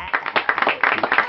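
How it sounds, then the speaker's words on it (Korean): A short burst of several people clapping together, quick irregular claps close up with faint voices underneath. "다 같이 박수."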